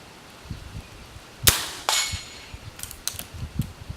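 Suppressed gunfire using Remington Golden Bullet ammunition: two sharp, muffled cracks about half a second apart, followed by lighter metallic clicks and clinks.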